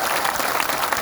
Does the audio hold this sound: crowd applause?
yes